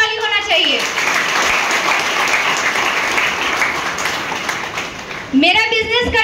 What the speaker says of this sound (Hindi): संतोष सर के लिए जोरदार ताली होना चाहिए